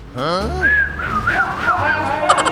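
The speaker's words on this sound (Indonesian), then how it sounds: "Misalnya sambil bersiul" A person whistles a wandering, sliding tune up close, with a few swooping notes at the start and some faint clinks at the end.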